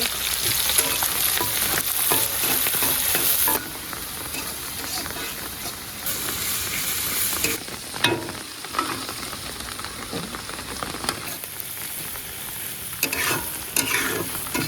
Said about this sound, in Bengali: এবার দিয়ে দিচ্ছি তেল, পেঁয়াজ কুচি দিয়ে দিচ্ছি, মরিচ কুচি